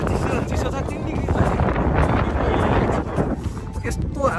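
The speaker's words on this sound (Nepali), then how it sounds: "यस्तो हावा चलिरहेको छ।" Strong wind gusts buffet the microphone on a cold hilltop at 3 degrees, a loud broad roaring rush that swells and eases without letting up, with a voice faintly mixed in.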